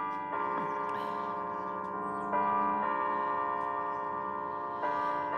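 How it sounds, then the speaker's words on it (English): Church bells on the US East Coast chiming the 9 o'clock hour: three separate resonant strikes, each ringing out in a long sustained hum, moderately distant and fairly quiet. "Pretty soon they'll start chiming to tell us it's 9 o'clock."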